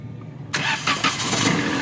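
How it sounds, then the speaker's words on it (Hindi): A 2021 Suzuki Alto car, which had a crank-but-no-start fault, catches with a sudden burst of cranking and then settles into a loud, steady running engine at close range. "गाड़ी जो है ना स्टार्ट हो चुकी है माशाल्लाह।"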